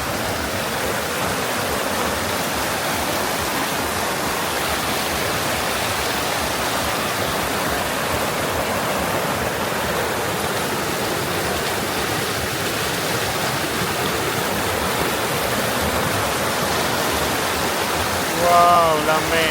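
River water rushes and splashes steadily on a mountain road in Rizal, Nueva Ecija, a continuous broadband flow close by, with a brief louder splash near the end.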